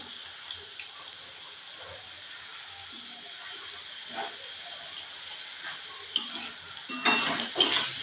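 Grated potato frying with browned onions in a pan for spring roll filling, a soft, low sizzle and hiss that swells near the end with louder spattering and stirring.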